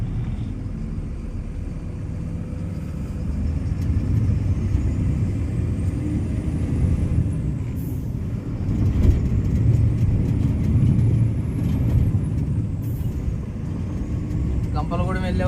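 A truck drones along a highway at night beneath a bridge, with a steady low engine rumble and road roar throughout, occasional faint passing whooshes, and someone talking over it.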